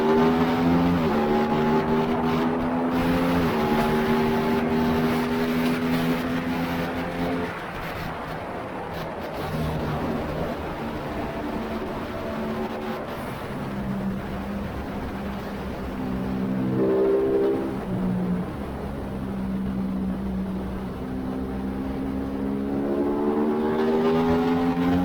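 An Aprilia RS660 sport motorcycle on a race track revs hard through the gears, with loud rising engine whines broken by shift dips, easing off midway before climbing again, recorded close on board.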